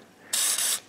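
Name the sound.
spraying an aerosol onto a van's engine mount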